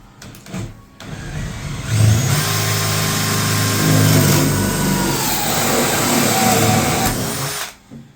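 A drill fitted with a Bosch hole cutter bores through a pilot hole during a bathroom refurbishment, a loud steady grinding whine lasting several seconds after a short start-up, then stopping.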